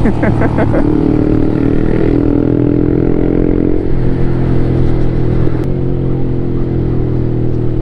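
A motorcycle engine at a drag race on a road in Mangatarem, Pangasinan, drones loud and close with a steady high rev and several throttle blips near the start, and no talk over it.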